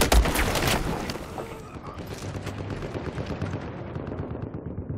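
Gunfire in Battlefield 4, a loud sharp opening burst followed by rapid, fainter shots and distant rattling over a dense battle rumble.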